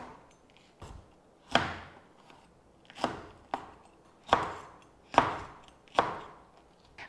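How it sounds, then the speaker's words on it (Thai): Knife slicing red chili peppers diagonally on a cutting board, with about eight sharp, distinct chops at an uneven, unhurried rhythm, each one a crisp thud close by with a short decay and no talking. "เราจะหั่นพริกชี้ฟ้าเตรียมไว้นะคะ ก็หั่นเป็นแบบเฉียงๆแบบนี้เนาะ"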